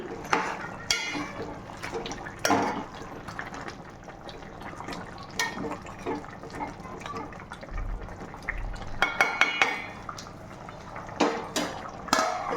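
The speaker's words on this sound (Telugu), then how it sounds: "తీసానండి, మళ్ళీ ఒకసారి కలుపుతున్నానండి" Chicken curry being stirred in a pot: intermittent spoon scrapes and clinks against the metal, with a soft wet churn between strokes, close and moderately loud, no talking.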